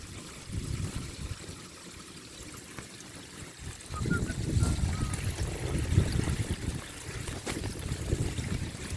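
Water trickles and pours steadily into a vortex chamber of a koi pond filter, growing louder and splashier midway, close by with a low gurgling flow and no talking.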